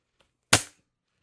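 A single sharp shot from an X-68 Punisher air gun, fitted with a 1.8mm-wire bolt spring, cracks out close and loud with a quick decay in otherwise quiet surroundings.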